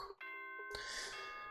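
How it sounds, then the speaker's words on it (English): A bright electronic ding-dong chime rings out from the Danganronpa video game, one clear note followed by a sustained, ringing tone, loud and alone. "Ding dong ding."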